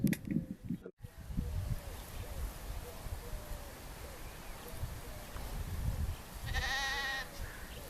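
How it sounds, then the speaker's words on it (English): Sheep and lambs on a farm bleating as the flock grazes and enters the fold, with soft repeated calls from the lambs and a louder, clearer bleat near the end over a steady outdoor rustle. "you can listen to the kind of little bleats from the lambs, and then you'll hear the louder voices of the mother"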